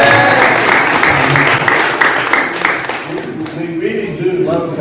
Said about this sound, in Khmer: សូមទះដៃថ្វាយព្រះ